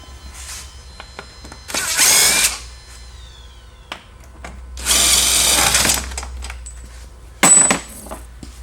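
A power drill drives golf cart seat mounting screws with a T45 Torx bit in three short whirring bursts separated by quiet pauses and light clicks of handling, close and loud, with no talking.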